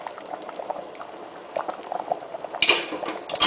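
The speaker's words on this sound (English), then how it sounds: "My ashujo has been cooking for 25 minutes." A pot of Ash-e Jo, a barley soup with beans and herbs that has cooked for 25 minutes, simmers with close, soft bubbling and small pops, then a few louder gurgling bursts near the end.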